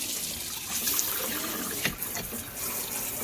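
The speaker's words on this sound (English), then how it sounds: "we're just gonna switch these back up to turn water back on" Water running steadily from a Moen pull-down kitchen faucet hose into a sink, a continuous close hiss and splash with a brief knock partway through.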